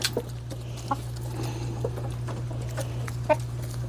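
Pet hens, including a gray one, cluck in short, scattered bursts over a steady low electrical hum inside a chicken coop, with several sharper calls standing out near the start and toward the end.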